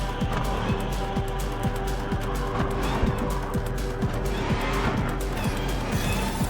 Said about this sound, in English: I kind of like the way that this car sounds.